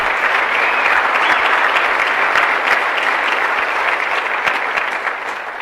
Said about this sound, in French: levez-vous, applaudissez-les.